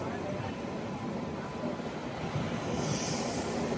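The Janshatabdi Express from Chennai Central to Vijayawada runs between Ongole and Chirala, heard as a continuous dense rumble and rush from on board.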